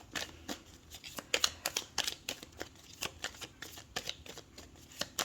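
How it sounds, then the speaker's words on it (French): Tarot deck shuffled and cut into three piles, a run of quick papery riffles and slaps at close range with brief pauses between bursts, no voice. "je les prends comme elles viennent en coupant par 3"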